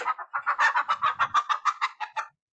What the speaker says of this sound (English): Very good, it's a hen.